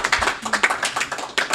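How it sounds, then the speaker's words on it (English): Scattered hand claps from a small live-show audience, irregular and brief, fairly close with no crowd roar behind them. "Our applause to all of you for coming"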